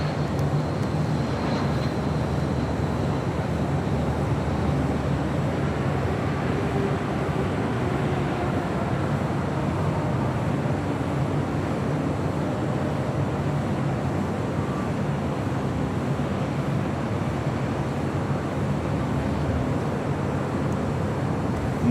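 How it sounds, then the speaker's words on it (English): An airplane arrives at LAX airport, a continuous broad engine roar holding steady and fairly loud throughout, with no talk over it. "My plane has arrived."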